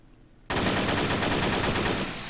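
Rapid automatic gunfire in a video game bank robbery, a dense burst of shots bursting in abruptly after near silence and holding loud and close for about two seconds.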